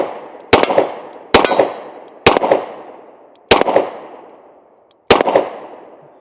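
A Kimber Raptor 1911 pistol in 10mm fires five loud, close shots at an unhurried, slightly uneven pace, each sharp crack followed by a long ringing echo that fades before the next.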